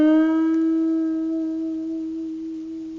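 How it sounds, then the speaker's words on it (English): Electric guitar holding a bent string with vibrato, a single sustained note wavering gently in pitch and slowly fading, close and unaccompanied. "you can try tackling probably the hardest vibrato of all, which is a bend vibrato"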